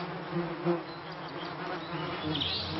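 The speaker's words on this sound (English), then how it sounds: "He uh, gets covered in bees and gets stung" Bees buzz loudly around a beehive in an island jungle setting, a dense continuous drone with individual insects swelling closer and fading off.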